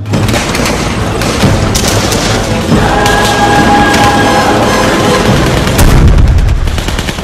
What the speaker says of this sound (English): All I want is an explosion, a little tiny explosion.